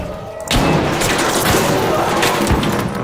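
Heavy gunfire in a fast-paced multiplayer shooter game, a loud sustained barrage of shots and thumps that starts abruptly and keeps going with repeated sharp bursts, close and dense.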